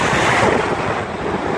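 Storm surf pours in during a storm at the Brookings beach, a loud, continuous roar of surging water mixed with heavy wind buffeting the microphone.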